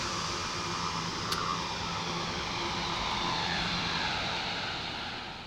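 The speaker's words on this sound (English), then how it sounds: "So the three of them together provide that wind rushing past the cockpit sound." Synthesized wind rushing past an aircraft cockpit, a steady broad airy roar with a faint high whistling tone, swelling gently in the middle and easing off toward the end.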